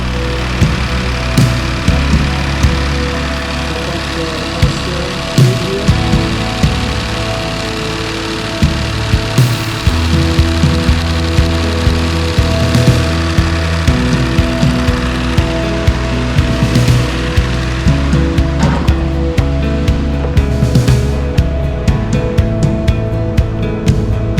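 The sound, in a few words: Kia Sorento replacement junkyard engine running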